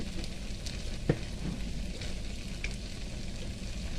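Masala with Kashmiri chilli powder frying in a pan, a continuous soft sizzle with a single sharp clink of a spoon partway through, quiet and close, no talking.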